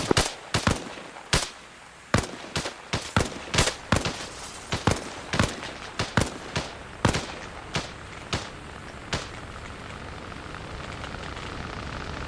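Repeated gunfire from a fire mission on a target in Arma Reforger, a sharp crack echoing every half second or so for several seconds, then thinning out against steady rain-like background noise.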